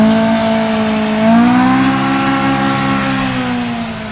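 A vehicle's exhaust runs through a new Bikeman center exit muffler, giving a loud, continuous engine drone whose pitch rises and then eases back as the throttle is worked.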